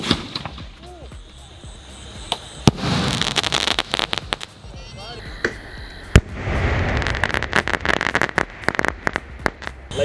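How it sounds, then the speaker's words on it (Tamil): Diwali night-sky fireworks shells launching and bursting in a rapid string of sharp cracks and booms, loud and close, with crackling tails between blasts and some voices in the background. "இது வரைக்கும் வெடிச்ச நைட் ஸ்கை ஷாட்டில் எது உங்களுக்கு பிடிச்சிருக்கு"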